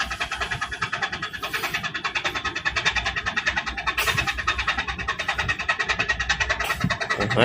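A small boat engine chugs steadily in a fast, even rhythm, loud and close, running continuously with no voices.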